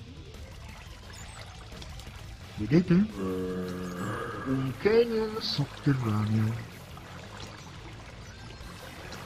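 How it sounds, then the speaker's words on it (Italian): An underground waterfall in an underground canyon in the Minecraft video game, a continuous soft pouring and trickling of water heard under a voice. "Là ci sta una cascata"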